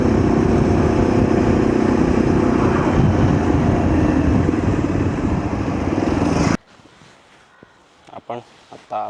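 A motorcycle rides along a narrow village road near Harihareshwar with a loud, continuous engine drone and wind rush for several seconds, then cuts off abruptly to quieter, scattered sounds.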